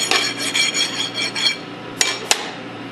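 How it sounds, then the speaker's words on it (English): A hand file rubs burrs off the shaft of a Hypro 7560 Series roller pump in a few short scraping strokes, followed by two sharp metallic taps, close and fairly quiet over a low hum. "you'll want to file off any burrs that may be left over on the shaft"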